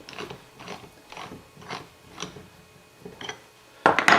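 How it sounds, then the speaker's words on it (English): Metal lathe chuck jaws clicking and ratcheting as the chuck is fitted onto the tenon of a wooden bowl during woodturning, a series of close, soft mechanical clicks ending in a louder burst of clattering. "I'm going to put the chuck on top of the bowl."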